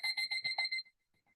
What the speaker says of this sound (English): I'm gonna start my timer and set it for